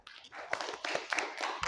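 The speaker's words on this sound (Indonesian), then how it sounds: "Kita tepuk tangan semuanya." A class of students clapping hands together during an Islamic religious education lesson, a short burst of scattered, uneven claps in a classroom with a few voices mixed in.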